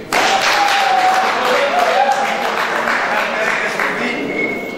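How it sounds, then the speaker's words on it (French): Wedding guests clap steadily through a civil ceremony, a dense, even wash of applause that holds from start to finish while voices talk over it and a whoop or cheer rises now and then. "Applaudissez pour lui"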